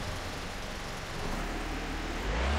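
An old car engine runs at a loud, rough, steady idle close by, with a broadband roar that swells slightly toward the end and no talking over it.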